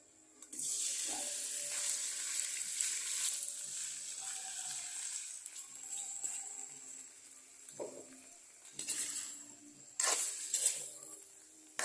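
Meat and onions sautéing in a pan for sinigang, a steady close sizzle that runs throughout, broken by a few louder bursts of hissing and stirring toward the end.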